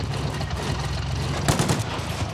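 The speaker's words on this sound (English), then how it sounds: "They're at the machine gun." Machine gun fire from a Battlefield 1944 tank battle rattles on as a steady, dense stream of rapid shots, with a slightly louder burst in the middle and a low battle rumble underneath.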